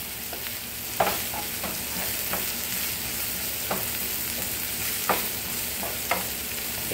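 Garlic and onion fry in oil in a pan, a constant soft sizzle broken by several sharp scrapes and taps of a spoon against the pan at irregular intervals, with no voices.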